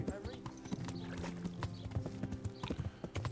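Horse hooves clip-clop steadily in Kingdom Come: Deliverance as a horse is mounted and ridden, a quick rhythmic patter of hoofbeats under a talking voice and game music.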